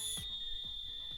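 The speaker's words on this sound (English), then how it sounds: "The ref's whistle, though, is designed for professional refereeing." A professional referee's whistle sounds as a steady, piercing high tone held through the whole short moment, fairly faint, with a few soft low thumps beneath it.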